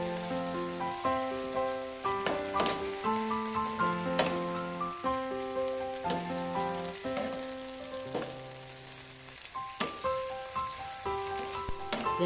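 Water spinach sizzles and crackles in a hot wok as it is stir-fried, with scraping clatters, under a steady melodic music backing.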